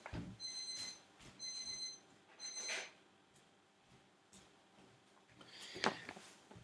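Computer timer alarm ringing in short repeated bursts of bright beeping tones, three bursts close together and a louder one later, fairly quiet among faint clatter and room noise.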